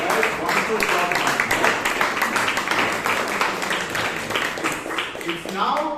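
A room full of Toastmasters club members in Bangalore gives a round of applause, steady close clapping from many hands that carries on for several seconds, with a few voices mixed in.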